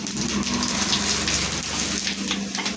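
Five-spice seeds dropped into hot oil with fried dried red chillies on a gas stove for a bottle-gourd dal, a loud, dense, continuous close sizzle and crackle with no talking.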